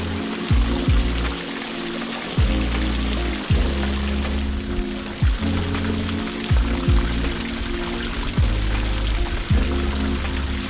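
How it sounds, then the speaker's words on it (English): Water trickling and splashing from an upcycled plumbing-pipe water feature at a Route 66 art community in Carthage, Missouri, a continuous close pouring rush with recurring low rhythmic pulses and no talk. "In the background, an awesome water feature."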